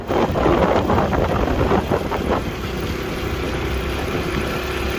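A motorcycle engine runs at a steady hum while riding, buried under gusty wind buffeting the microphone, louder for the first two seconds and then settling into a lower, even drone.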